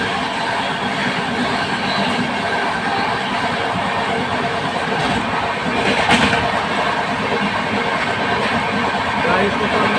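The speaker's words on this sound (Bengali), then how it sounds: "একটা ট্রেন যাচ্ছে, এটা হচ্ছে পেট্রোল ট্রেন, যেটা বাইরে থেকে পেট্রোলকে নিয়ে আসছে" A freight train hauling petrol passes close by at high speed, a steady, dense rumble and rush of wagons that swells slightly around the middle and continues unbroken for the full stretch.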